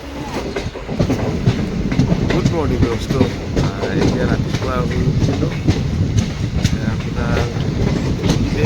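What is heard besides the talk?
passenger train running through hills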